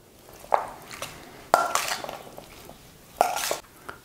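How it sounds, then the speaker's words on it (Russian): A utensil scrapes and knocks against a bowl in several quick strokes, mixing ingredients with mayonnaise, with clinks at irregular intervals; no voices. "Все хорошенечко нужно перемешать"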